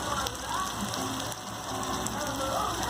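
Paneer frying in hot oil with chopped chilli for a capsicum paneer gravy gives a steady, dense crackling sizzle throughout, close and even.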